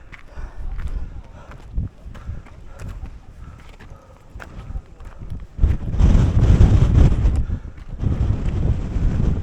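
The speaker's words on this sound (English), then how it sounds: "the wind's really starting to pick up" Strong wind buffets the microphone on the summit of Helvellyn, a low rushing roar that swells louder and fuller in the second half, with faint footsteps and muffled voices underneath.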